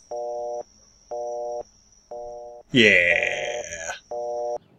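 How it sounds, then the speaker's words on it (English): Phone redial tones from the Phoenix Wright Turnabout Storm game: four evenly spaced, steady beeping busy-signal pulses with a short burst of a voice speaking over a high steady whine between them, fairly close and clear. "I'll just hit the redial button on my phone."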